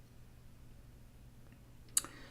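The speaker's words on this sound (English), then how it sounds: "Click the save button again" A single crisp mouse click on a save button near the end, after a stretch of faint, quiet room hum.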